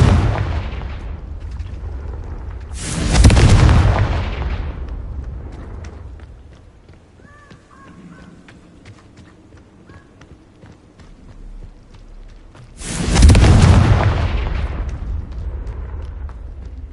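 Confringo spell explosions in a video game, two loud booming blasts about ten seconds apart, each a sharp burst fading into a rumbling tail with quieter ambient rumble between them.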